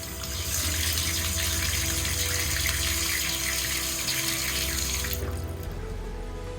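Steady rushing water pours and drains through a stone and wood sink, a loud continuous gush that drops to a softer trickling flow near the end.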